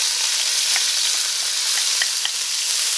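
Ingredients crackle and sizzle steadily in smoking-hot olive oil, a dense broadband fry with scattered sharp pops, close and loud, no voices, while lemon pasta ingredients cook.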